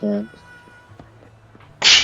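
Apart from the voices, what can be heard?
sneeze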